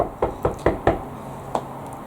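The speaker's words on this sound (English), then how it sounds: "Who's at the door? Come in!" A series of sharp knocks on a door in a quiet indoor room, four quick raps in a row, then a pause and one more, close and fairly loud.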